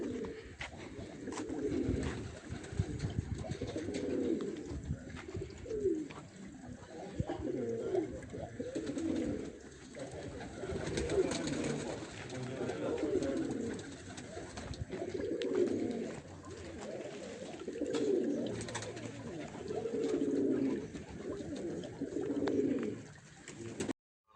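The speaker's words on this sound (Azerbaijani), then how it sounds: "Kuşlarımız gəlir. Göstərim sizə 2 dənə quşumuz buradan gəlir." Racing pigeons cooing at a loft during a race arrival, a steady series of soft, low, rolling coos repeating every few seconds, fairly near and even, with little else besides faint background noise.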